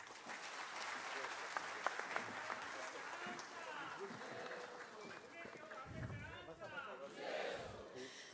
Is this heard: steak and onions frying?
no